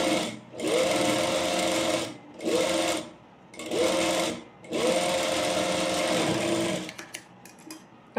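A sewing machine top-stitches a pleated petticoat in four loud running bursts with short pauses between them, then stops with a few light mechanical clicks.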